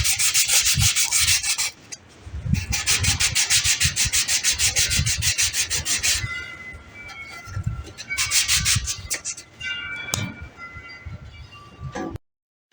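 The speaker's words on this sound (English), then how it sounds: "So let's get to sanding." A solar garden light is sanded by hand, a close, rapid back-and-forth rasping in steady strokes, with brief pauses, light clinks and a sudden stop at the end.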